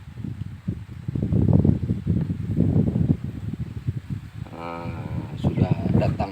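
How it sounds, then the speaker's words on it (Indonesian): Wind gusting through potted chili plants, a broad, steady rustle of leaves and air buffeting close to the microphone, carrying on throughout, with a voice speaking over the final seconds. "sudah datang angin, tengok."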